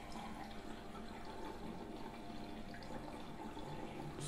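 Water runs steadily inside an LG washing machine after its heating element was replaced, a continuous low rushing and trickling wash of sound with no voices over it.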